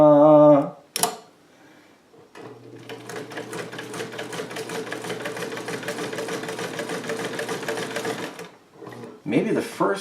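A vintage Cool Blue Sovereign sewing machine stitching steadily with a fast, even mechanical rattle and a low motor hum for several seconds, starting and stopping cleanly, with brief sounds of handling before and after.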